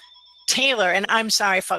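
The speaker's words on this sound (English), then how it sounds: "that's my phone going off." A mobile phone rings in the first half second with steady electronic tones, then a person speaks over it, breaking off and resuming.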